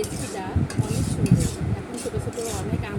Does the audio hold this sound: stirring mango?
yes